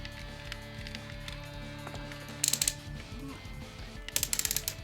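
A Transformers Masterpiece Optimus Prime figure has its ratcheted joints worked by hand. Two quick bursts of sharp, close clicking ratchet sound stand out against quiet plastic handling, with faint talk underneath.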